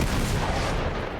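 A grenade blast in the Uncharted 3 video game, a single loud, dense boom that fills the whole short moment and fades only slightly at the end.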